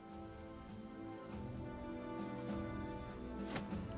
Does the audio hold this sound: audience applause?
no